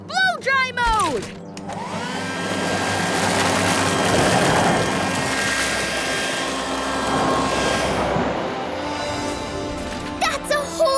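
Cartoon vacuum switched into blow-dry mode, a loud steady whooshing roar like a hair dryer or jet that builds quickly and holds for several seconds, with brief voices and effects at the start and end.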